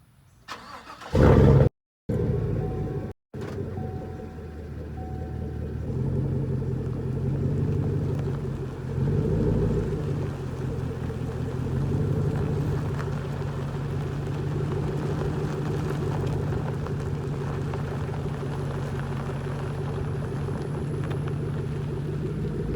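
Truck with 3.08 gears and bigger wheels and tires cruising while towing a loaded trailer, a steady mid-pitched engine drone and road rumble continuing throughout, with a few sharp thumps near the start.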